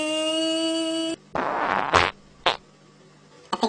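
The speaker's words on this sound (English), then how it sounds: "I think I just farted." A short, low fart sounds once at close range in a quiet room, following a steady electronic hum that cuts off abruptly, with a few brief noises after it.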